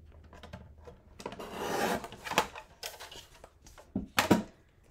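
Striped scrapbook paper being trimmed for a spring scrapbook layout, heard as close rubbing and rasping cuts with a sustained stroke followed by several sharper bursts, no talking.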